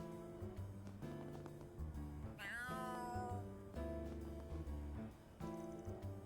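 A cat meows in the video game Trails Through Daybreak 2, a short rising and falling cry set over steady background music.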